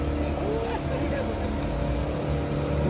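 Steady motorboat engine drone on a river boat ride near Aswan, heading toward a Nubian village, running continuously at close range while people talk over it.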